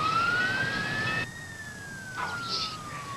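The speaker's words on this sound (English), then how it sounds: "I thought I heard a siren coming" A siren wails at a distance, its pitch gliding slowly up and then back down, with steady background noise around it.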